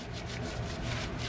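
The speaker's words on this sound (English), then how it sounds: "plus you can use your wheel brush." A wheel brush scrubbing a car wheel during cleaning, a steady close wet rubbing and swishing sound with no speech.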